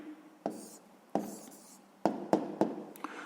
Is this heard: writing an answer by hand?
yes